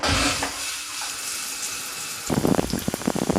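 Shower running, a loud continuous hiss of falling water that shifts partway through into a harsher splashing spray with no voices.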